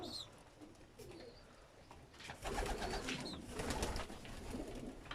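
Pigeons in a loft coo softly and steadily, with low rolling calls and occasional rustling, close but faint throughout.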